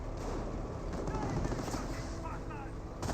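An MG42 machine gun rattles off bursts of fire in a Company of Heroes battle, mixed with other gunfire and battlefield noise, while a commentator talks over the action.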